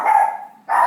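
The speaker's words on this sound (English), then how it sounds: "It's my dog Charlie growling because he probably sees a leaf shadow at the door or hears a noise outside" A dog indoors lets out two close, loud barks with a brief gap between them, reacting to something at the door.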